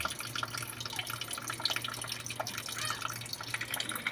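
A thin, weak stream of water trickles from a household tap, giving a faint steady patter with scattered drips over a low background hum.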